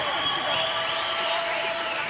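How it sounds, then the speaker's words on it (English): Spectators at a women's European curling championship semi-final applaud and cheer, a steady wash of clapping and crowd noise filling the arena without a break. "cheering on Scotland as they will win the semi-final"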